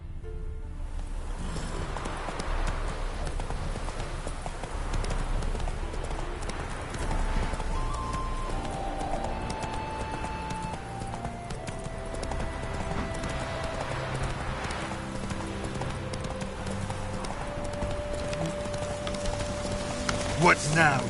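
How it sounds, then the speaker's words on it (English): Galloping horse hooves pound continuously in The Witcher 3 video game, a dense, driving rhythm under sustained tonal game music, with a brief clatter at the close. "Run, Roach. Slow now. Whoa."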